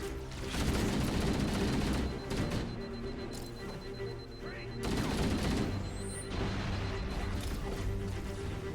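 Dense gunfire in Halo: Combat Evolved: loud, sustained bursts of automatic fire with short gaps and a few heavier hits, with voices in the background.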